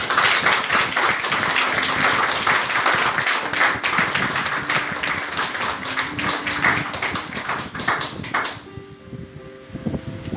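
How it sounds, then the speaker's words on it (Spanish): Congregation at a church service clapping in a steady, fairly loud round for about eight seconds before it stops abruptly, leaving quieter room sound and a few voices. "Un aplauso al Señor."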